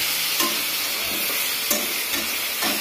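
Potato, tomato and eggplant curry frying in oil in a pan, a steady sizzling hiss with a few soft stirring scrapes, close and without talk.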